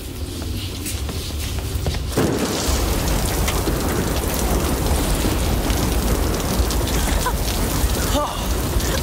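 Heavy rain and hail pour down steadily in a thunderstorm, a loud wash that grows denser after a couple of seconds, with faint rumbles underneath.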